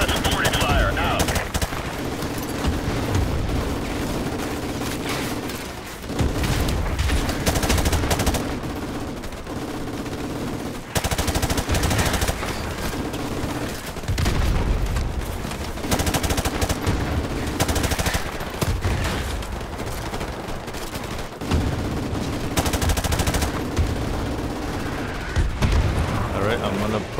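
Sustained machine gun fire from a Call of Duty battle rattles loudly in long bursts, broken by short lulls and mixed with distant explosions and battle noise.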